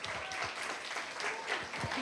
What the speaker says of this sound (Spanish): Un aplauso para Lucía Vargas, por favor.